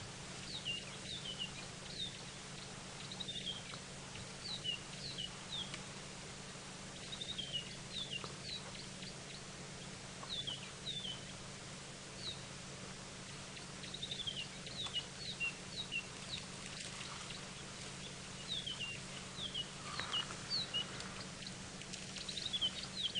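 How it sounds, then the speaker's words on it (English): A small bleating warbler calls at dawn in the African bush during a sunrise safari drive: faint, high chirps and twitters come in scattered bursts over a steady low vehicle hum and soft rustling. "I think I can hear a little bleating warbler"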